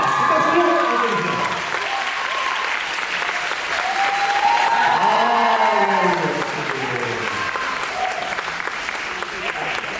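Audience applause at a tap dance competition award ceremony in Seoul, sustained clapping throughout while a host speaks over it.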